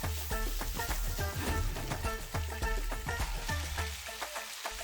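Tomatoes, around 250 grams or four to five medium ones, go into a pan of paneer makhani gravy, giving a steady sizzle with stirring clatter and music-like tonal bursts throughout, no talk.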